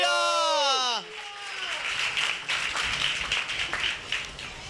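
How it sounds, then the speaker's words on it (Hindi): A church congregation breaks into scattered clapping after a brief sliding tone, with uneven hand claps rising and falling for a few seconds. "Give him a clap."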